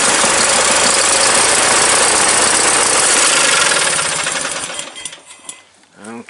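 A 2001 Murray garden tractor's 20 hp Briggs opposed-twin engine runs loud and rough on a trickle of bottle-fed fuel for about four seconds, then sputters and dies away into near silence.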